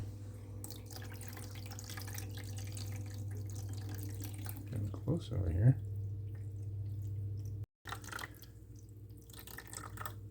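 Water spills off a drainboard that has been reshaped with a heat gun and trickles into the sink, a soft uneven running and dripping under a steady low hum, with a brief comment spoken over it.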